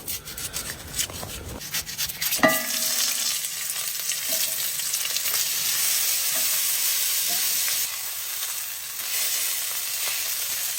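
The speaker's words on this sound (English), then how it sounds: "Next up, I need to grill this onion." An onion sizzles and crackles steadily on a grill inside a tent, a continuous bright frying hiss after a few clattering knocks at the start, with gusty rustle underneath and no talking.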